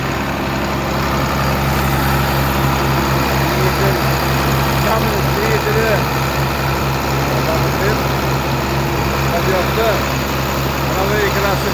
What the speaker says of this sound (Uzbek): Mana bittasining motorini yangi teribdi, ishlatyapti.